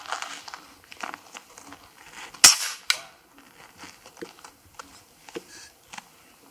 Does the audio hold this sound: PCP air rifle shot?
yes